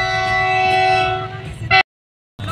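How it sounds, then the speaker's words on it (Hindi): A large train tests a newly built railway track, its horn blaring loud and close in a sustained blast over the rumble of the running train, before the sound suddenly cuts out and returns. "आज इस रेलवे ट्रैक की टेस्टिंग हो रही है गाइज,"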